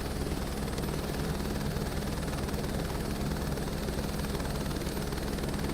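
A helicopter spools up for takeoff from a helipad in Microsoft Flight Simulator 2024, a steady dense rotor and turbine roar with low blade thrum holding constant and close throughout, no voices.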